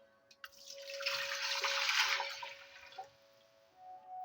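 One litre of water poured into a cooking pot for lentils, a soft splashing pour swelling for about two seconds then tapering off with a few faint drips, no talking.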